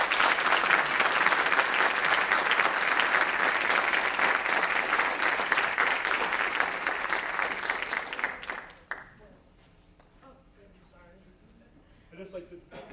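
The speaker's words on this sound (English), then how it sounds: "Let's give them a round of applause." A school board meeting audience applauds students honoured for all-league and all-section soccer, a dense sustained clapping that holds steady for about eight seconds and then fades out, followed by a quiet room with faint voices.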